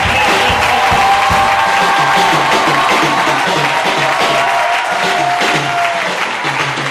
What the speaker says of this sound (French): Applaudissons très fort le Saint-Esprit.